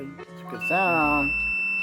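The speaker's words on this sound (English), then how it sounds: "We're gonna do a quick continuity test on it." A multimeter's continuity beep sounds as one steady, piercing electronic tone that starts partway through and holds unbroken to the end, with someone speaking over its start.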